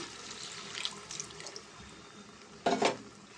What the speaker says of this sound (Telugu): దీంట్లో మనం కొంచెం వాటర్ వేసుకుందామండి